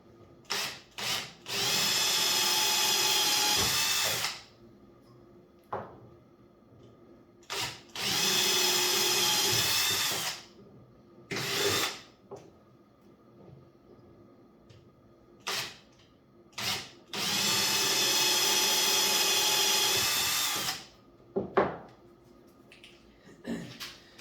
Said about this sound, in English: Now we're ready to finish drilling through to the other side.